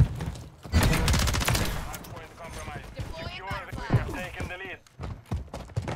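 Rapid bursts of gunfire from the video game Modern Warfare 3, with an HRM-9 SMG in play, crackle loudly in the first seconds and then thin into scattered shots under excited talking.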